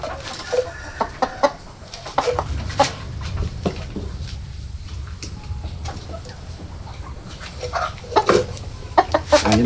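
A red-plumed breeder rooster on a farm clucks and calls in short repeated bursts close by, with other fowl and faint farmyard noise in the background.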